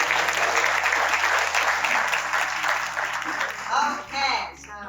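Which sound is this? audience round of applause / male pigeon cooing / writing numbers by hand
audience round of applause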